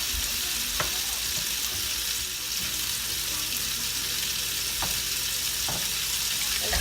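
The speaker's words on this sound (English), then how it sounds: "into this pot and get it boiling" Steady hiss of water at a rolling boil in a pot for Irish stew, with a few faint clinks of a utensil against the pot.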